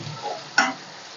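Chopped onions and green chillies fry in a pan for a prawn curry, making a faint, soft sizzle with one brief sharp clink of a utensil partway through and no talking.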